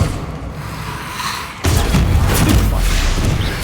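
A fire spell erupts in Hogwarts Legacy, a sudden loud whooshing burst of flame that cuts in after a quieter stretch of game noise and roars on with a heavy, rumbling body.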